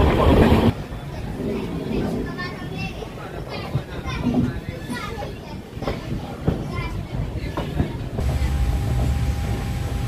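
The Saraighat Express from Howrah to Guwahati rolls along with a steady rumble and faint rhythmic clatter inside the coach, while voices and children's chatter carry over it.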